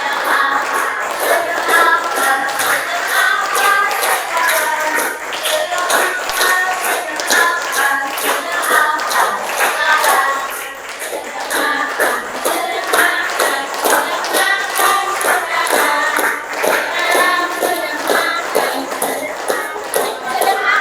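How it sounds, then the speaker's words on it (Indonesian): A classroom group claps hands together in steady, rhythmic unison for a sustained stretch. The clapping is loud and close, with a few brief dips in the pattern. "Sambil tepuk tangan enggak apa-apa."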